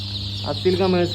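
An Aseel commercial chicken clucks in short, close calls over a steady background hum, with faint talk mixed in.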